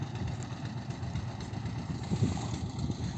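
A river ferry boat's engine runs with a steady low rumble and throb that carries from across the water, holding a constant pace with no talk over it.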